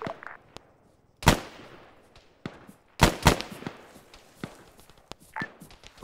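Sharp reports from a firefight in the game Act of Valor: several separate cracks and bangs, two loud close ones near the middle followed by scattered quieter shots and clatter, with no talk.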